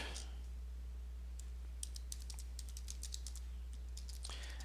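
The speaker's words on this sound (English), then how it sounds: "I'm having trouble typing today." Quick, light clicks of keys being typed on a computer keyboard, close and fairly quiet over a steady low hum.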